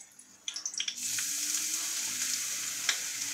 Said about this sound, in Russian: Сухенькие такие, жарим на сильном огне.